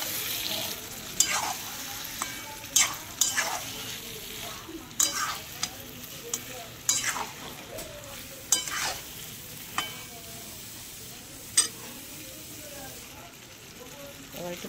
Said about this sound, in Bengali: এবার মাছ দিয়ে একটুখানি কষতে লাগবো